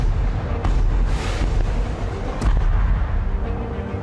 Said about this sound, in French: Les canons tiraient en direction de la plage